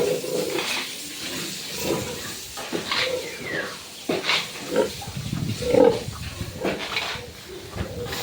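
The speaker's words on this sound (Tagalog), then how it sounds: "Kita nyo na yung mga inahin natin" Sows grunt and snort in irregular bursts, several animals close by, with shuffling and clatter in a pig pen between calls.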